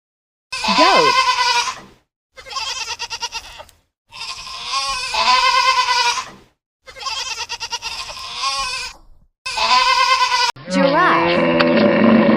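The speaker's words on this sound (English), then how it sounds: "Goat." A goat bleats loudly and repeatedly, about six wavering calls in a row with short gaps between them. The last call sounds different and more tonal, and nothing else is heard.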